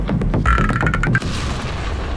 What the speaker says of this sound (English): 2 villagers survived that explosion, meaning villagers are really not smart.